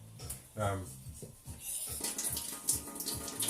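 Water runs steadily from a tap during amateur jade carving, a continuous wash of noise mixed with a stereo playing music and someone talking over it.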